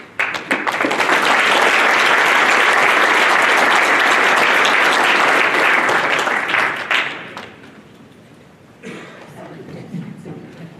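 Applause from a school district event audience after a second grade class presentation, loud and sustained for about seven seconds, then tapering off into scattered claps and faint murmuring.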